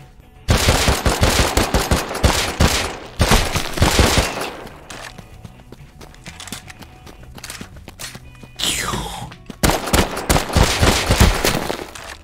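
Rapid bursts of automatic gunfire in the video game Rust, loud and close, with brief pauses between volleys and a few single shots.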